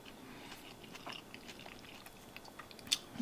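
Close, quiet chewing and soft biting of alligator tonkatsu with cabbage in a soft tortilla, wet crunches scattered through the moment with no talking.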